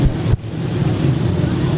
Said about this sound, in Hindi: रश ट्रैफिक इधर बहुत ज़्यादा होती है